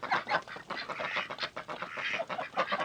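Ducks kept in a basement zoo quack and honk in a busy, overlapping flock of repeated calls, fairly close and continuous throughout.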